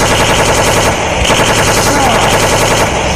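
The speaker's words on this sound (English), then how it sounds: "Stop shooting at me!" Sustained rapid machine gun fire, loud and close with an even rattling rhythm throughout, no pauses.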